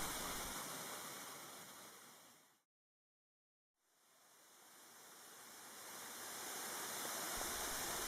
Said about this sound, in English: The waterfall did not disappoint,